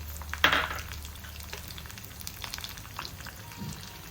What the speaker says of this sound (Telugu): పోపు చక్కగా వేగిపోయింది.